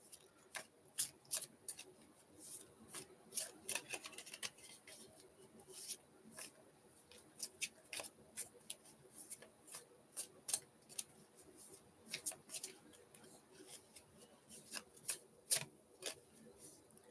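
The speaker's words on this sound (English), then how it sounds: "let me just shuffle these cards" Soft, quick flicks and clicks of tarot cards being shuffled, close but faint, in irregular bursts over a quiet background.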